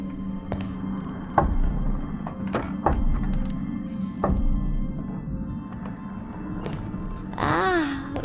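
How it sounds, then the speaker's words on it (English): Knocks from a Halloween digital decoration: three or so dull thuds under an eerie ambient drone, followed by a rising moaning wail near the end. "Spirits, I beseech you, if you can hear me, knock"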